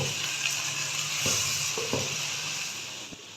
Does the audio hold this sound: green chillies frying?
yes